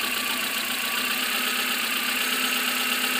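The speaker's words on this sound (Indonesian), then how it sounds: "Ini kondisi mesin masih dingin ya, belum panas." A cold car engine idles steadily with an even, humming drone and a faint tonal whine, continuous and close throughout with no voices.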